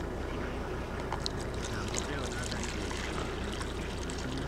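Water is poured into a bowl, a soft continuous splashing and trickling wash that stays faint and even throughout, with no voices over it.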